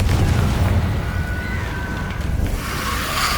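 A Confringo explosive spell blast from Hogwarts Legacy, a loud deep booming burst with rumbling low roar that fades slowly, followed by a rushing hiss, no talk.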